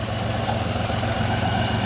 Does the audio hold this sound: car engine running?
yes